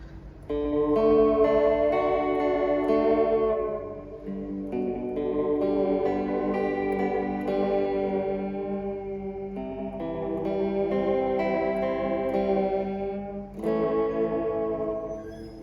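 A distorted electric guitar through a Fender Reflecting Pool delay pedal plays sustained notes and chords with echoing repeats, loud and continuous, the phrases blending into each other.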